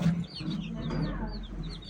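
Several chickens cluck and chirp close by in short overlapping calls, over a low background rumble.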